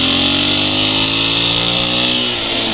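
A Husqvarna 701 Enduro motorcycle accelerating in third gear, its loud, steady engine drone close up and holding a rising, harmonic-rich tone throughout.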